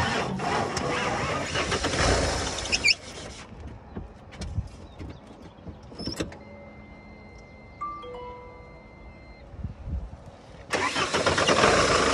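A 2017 tempo van with 2.7 lakh km on its engine cranks and catches, revving loudly at the start, then settling into quieter idle with clicks and clatter before revving hard again at the end.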